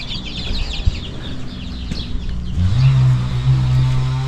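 Chickens cluck in the background while a low engine-like hum swells partway through.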